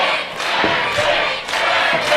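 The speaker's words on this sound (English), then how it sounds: "listen to this crowd come alive for Justin Xavier" A wrestling show crowd cheers loudly for Justin Xavier in swelling, pulsing waves of shouting that rise and dip over a couple of seconds.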